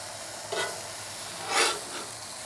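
An onion and pepper mix sizzles on a griddle while steak quesadillas are cooked for a tailgate lunch. A steady, soft frying hiss is broken by two short scraping stirs, the second one louder.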